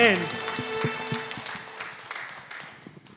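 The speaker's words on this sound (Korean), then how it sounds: "영광의 박수 올려드립니다" A church congregation claps in a worship service, with steady scattered applause under a fading sung or organ chord and someone speaking.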